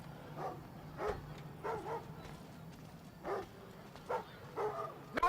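Dogs in the stealth video game Thief on PlayStation 4 give a few soft, scattered barks and yips at moderate distance over a low ambient drone, with no speech.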